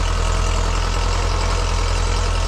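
A Başak 2073 tractor's diesel engine runs steadily while pulling a plough through deep field tillage, a loud, close, continuous low rumble with an even throb and no voices.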